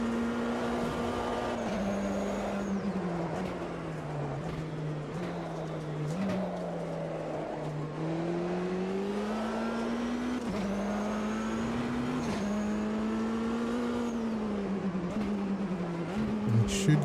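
Race car engines roar around the Daytona banking in the Automobilista 2 racing game, a loud continuous engine drone rising and falling in pitch through gear changes, with other cars close by throughout.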